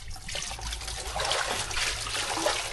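Creek water trickling and splashing continuously at moderate level, a steady close babble with no voices.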